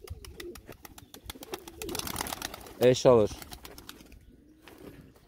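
Pigeons coo softly in a coop with a brief burst of throaty calls and some wing flutter, while someone speaks nearby.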